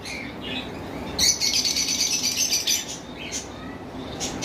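Lovebirds and cockatiels in a bird shop make bursts of shrill chirps and squawks with some wing fluttering, fairly close and continuous against a noisy room background.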